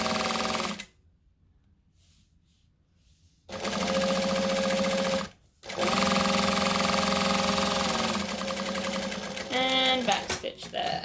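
A sewing machine stitches a fabric strap in loud, rapid mechanical bursts, stopping for a pause, then running again with a short reverse back-stitch near the end, close and steady.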